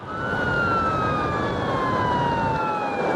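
Police traffic car siren wailing loud and close during a high-speed pursuit on the M3 motorway, a steady falling tone held without a break over road noise.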